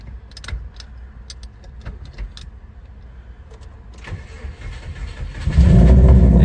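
A crashed auction car with a very dead battery is cranked and fires up near the end, its engine catching loudly after a stretch of quiet clicks, key jangles and small cabin handling sounds.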